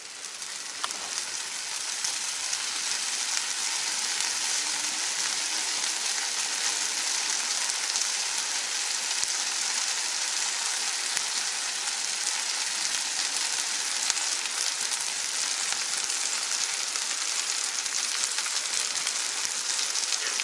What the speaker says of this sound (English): You want to let it fry up first.